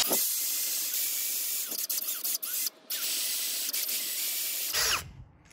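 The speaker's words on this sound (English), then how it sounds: "hold my drill here and see if it'll pull out the" A power drill with a reverse drill bit whirs steadily at close range extracting a broken timing cover bolt, with a couple of brief dips, then winds down and stops near the end.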